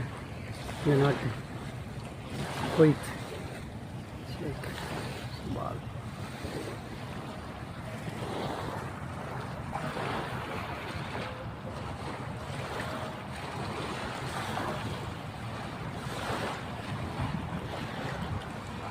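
Arabian Sea surf washing onto the shore at Kuwait City in the evening, a steady broadband rush of waves mixed with buffeting wind noise on the microphone, with a couple of brief louder thumps early on.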